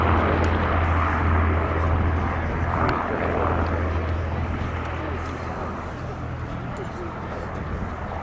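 An Avro Lancaster bomber flies over a vintage airshow, its piston engines giving a deep, continuous droning hum that is loud and fairly close, fading slightly toward the end.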